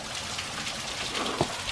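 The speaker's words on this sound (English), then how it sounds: "Waterfall." Steady broadband rush of falling water at Burden Falls in Shawnee National Forest, Southern Illinois, a continuous splashing hiss like a small cascade, with a few brief louder splashes.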